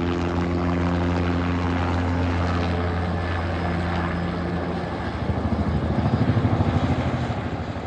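A small helicopter passes overhead, its steady engine drone and rotor hum filling the air before a rhythmic blade chop swells louder as it comes closer.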